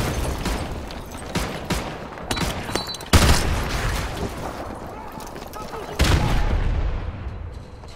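Explosions and gunfire in Call of Duty Modern Warfare 2 Remastered, a string of loud booms and sharp bursts with heavy blasts near three and six seconds, dense battle noise throughout, voices faintly mixed in.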